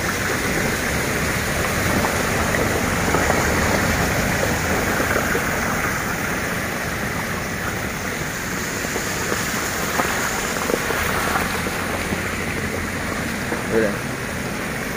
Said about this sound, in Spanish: Es la coladera que está brotando agua para arriba.